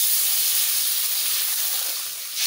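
Water poured into a hot pan for a raw fish curry with mustard paste lets out a loud, close, continuous hiss of steam that holds steady and fades slightly near the end.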